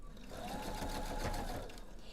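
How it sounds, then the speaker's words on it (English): A sewing machine stitches over a bulky seam, running continuously with a dense, steady mechanical whir and rapid needle chatter. The sound is close and loud, with a faint voice underneath. "we have that really bulky seam that we're sewing over top of. And the machine wants to, sometimes they want to complain a little bit."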